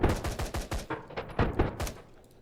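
Gunfire aimed at targets in a video game level's blockout of a hanging base: a quick series of sharp, punchy shots in uneven bursts, close and loud, with no talking.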